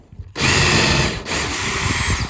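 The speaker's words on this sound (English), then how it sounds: "I could speed my drill up a little bit." A power drill spins up abruptly and bores into a board with a carbon steel tapered drill bit, a loud steady whine with a brief dip midway before continuing at constant speed.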